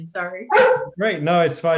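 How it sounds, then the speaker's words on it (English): A dog barks several times in quick succession near the microphone during a video call, the sharp barks running under and between a man's apologetic speech. "And that's my dog chiming in."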